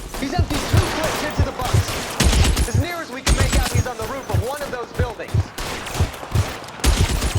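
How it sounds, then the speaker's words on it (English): Bursts of machine gun fire ring out in a police shootout in the video game L.A. Noire, loud rapid volleys repeating through the scene while voices shout over the gunfire. "Shooter has a machine gun!"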